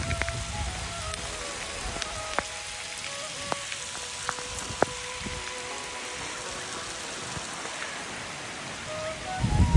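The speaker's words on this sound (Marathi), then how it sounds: "तर पाऊस आलेला आहे मित्रांनो." Rain patters steadily on Konkan rice paddies during transplanting season, a soft continuous hiss broken by scattered sharp drips and taps nearby.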